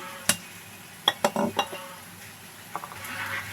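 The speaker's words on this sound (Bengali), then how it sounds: "এখন আমি নেড়ে নিচ্ছি" A utensil stirring croissant ingredients in a pan with a little butter and oil gives a few sharp metallic clinks and scrapes, close and fairly quiet, followed by a faint sizzle.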